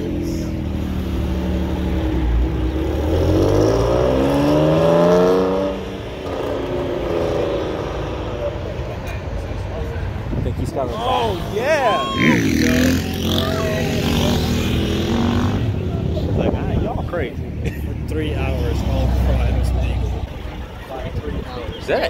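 A car revs hard and spins its tires in a burnout while pulling out of a Cars and Coffee meet at Toy Barn, engine rising and falling in long sweeps over crowd chatter and voices nearby.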